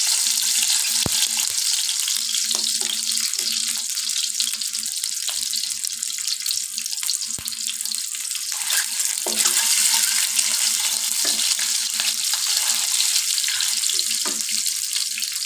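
Boiled eggs lightly frying in oil for egg biryani, a steady bright sizzle running the whole time with a few soft clinks and stirring taps, fairly close and with no talking.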